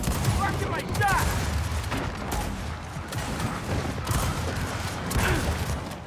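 Gunfire crackles in the video game Gears of War 4 during a team deathmatch, with dense bursts of shots and heavy low rumbles running through the whole stretch as voices talk over it.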